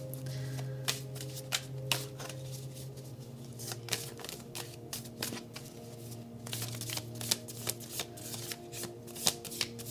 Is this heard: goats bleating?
no